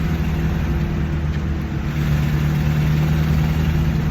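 Combat vehicle moving slowly over rough ground, its medium engine giving a steady, loud, close drone with no clear revving throughout.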